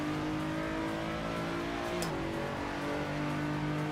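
Race car engine in the Assetto Corsa racing game, a steady droning whine with a brief rising rev near the middle, continuous and fairly quiet, no talking over it.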